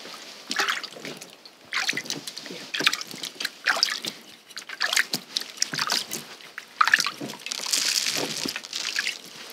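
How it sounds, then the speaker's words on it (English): Water sprinkled by hand onto cloth with a bit of salt for natural dyeing makes irregular close patters, drips and small splashes in quick bursts, with no talking. "sprinkle some more water"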